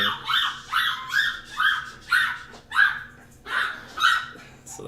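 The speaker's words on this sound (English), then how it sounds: "So that's Larry, the guard dog" A guard dog barks repeatedly in a steady rhythm of about eight sharp, mid-distance barks, each evenly spaced, with no talk over them.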